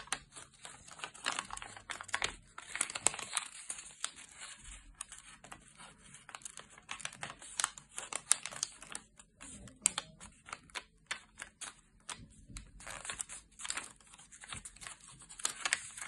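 Paper being folded and creased for origami gives soft, irregular crinkles and sharp rustling taps, quiet and close, in uneven bursts with short pauses between.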